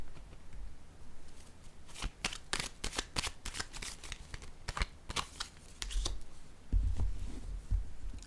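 Tarot cards are shuffled close up in quick riffling bursts that patter and flutter, with brief pauses between passes and a low thump toward the end.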